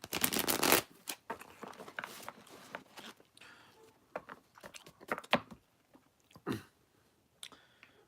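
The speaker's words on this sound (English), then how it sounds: "These cards want to be spread." Playing cards are shuffled with a loud riffling burst, then spread and handled with a string of quick, light clicks and flicks, close and fairly quiet, with pauses between.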